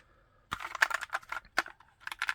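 Rapid keystrokes on an ABKO K660M keyboard with Kailh switches come close and crisp in uneven bursts after a half-second of quiet, with sharp individual clacks and brief pauses.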